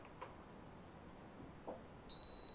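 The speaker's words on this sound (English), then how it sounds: "It beeps." A CipherLab 1660 barcode reader gives a single short, high electronic beep near the end, close but quiet, after faint handling noises in a still room.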